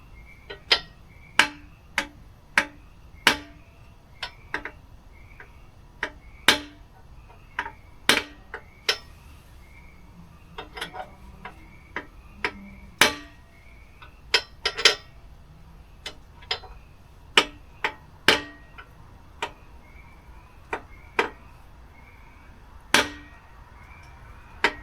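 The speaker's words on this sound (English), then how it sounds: "take your rubber mallet, or in my case a sledgehammer" Sharp metallic taps from a sledgehammer tapping axles into a car's rear-end housing ring out one at a time at irregular intervals, dozens of them over a quiet background, with no one talking.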